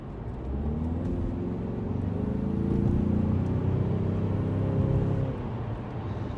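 Cabin view of a Ford Mustang EcoBoost engine, a fairly quiet, smooth drone that swells slightly as revs rise, then eases off near the end, with no talking.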